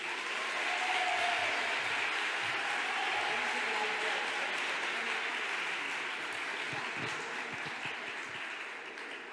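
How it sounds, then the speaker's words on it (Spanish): Crowd applause for a teacher named Belén at a children's graduation ceremony, sustained clapping from a large audience lasting several seconds, gradually fading near the end with some scattered low crowd noise. "Damos un fuerte aplauso a Belén."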